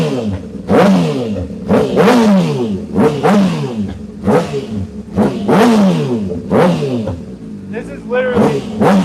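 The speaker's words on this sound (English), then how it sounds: "we are ready to rev" A motorcycle engine revs hard inside a shed, loud and close, in about seven rising-and-falling bursts with the idle dipping between each.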